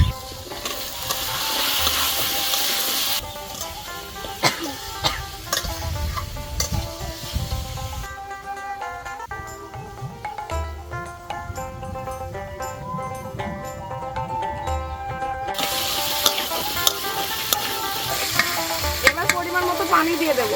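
Cut papaya pieces fry in a pan with five-spice, coriander powder, salt and turmeric, a loud continuous sizzle broken by repeated scraping strokes of a spatula stirring, with the hiss dropping back for several seconds in the middle.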